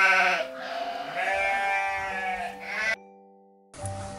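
Several toy sheep bleating from a sound button in a children's pop-up farm book, a chorus of wavering, melodic bleats lasting about three seconds, then a brief silence before a short electronic sound resumes.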